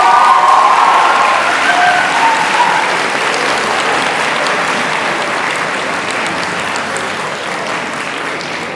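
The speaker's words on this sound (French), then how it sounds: "On l'applaudit très fort." Loud, sustained applause from a school audience at a Breton high-school pleading contest, a dense wash of clapping that holds steady for several seconds and slowly eases off, with faint crowd murmur underneath.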